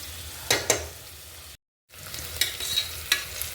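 Onions fry in hot oil in a pan for a Telangana mutton curry, browning with a steady close sizzle broken by a few scraping stirs and a brief moment of silence, and no voices.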